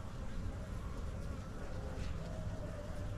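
Honeybees buzzing steadily around a new hive with old comb frames, a dense continuous drone close by with no voices.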